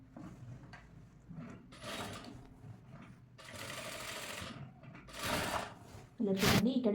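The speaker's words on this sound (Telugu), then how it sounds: "ఇలా నీట్గా స్టిచ్ వేసుకోవాలి" A sewing machine stitching fabric for a princess-cut blouse: several bursts of rapid mechanical needle chatter separated by pauses, ending with a louder, closer clattering run.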